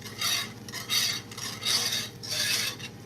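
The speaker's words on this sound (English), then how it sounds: "Now I remember why I don't use a whisk on camera." Wire whisk scraping and rasping around a pot as greens sauce for gumbo greens is worked smooth, loud bursts of metallic scratching in uneven strokes, close up with no talk.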